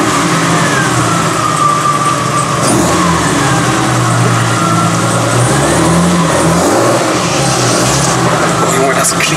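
A BMW 7 Series saloon fitted with twin Weber carburetors revs loudly up close, its engine note climbing and falling through several throttle blips over a constant rumble, with people talking over it.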